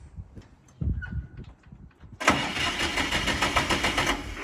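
A Siromer 304 tractor engine that has run out of fuel cranks and tries to start, a loud continuous churning rattle kicking in midway after a few quieter knocks and clunks.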